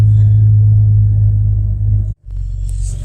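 An old Jeep or Chevy engine idles after a cold start with a steady, loud low rumble that cuts out briefly near the end and then resumes.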